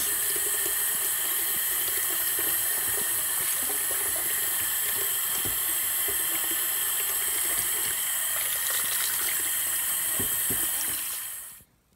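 Water from a tap runs steadily while a doll's hair is washed with mild soap, a continuous close rushing gush with faint splashing that stops abruptly at the end.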